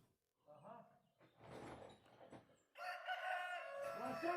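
A rooster at a forest cabin crows loudly in one long, drawn-out call after a few moments of people talking nearby.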